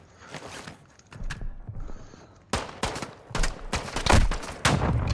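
Enemy bots open fire in the Call of Duty MW2 video game: scattered gunshots at first, then denser close bursts of automatic fire, with faint footsteps and gear rattles between the shots.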